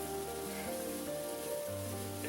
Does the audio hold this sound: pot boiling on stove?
yes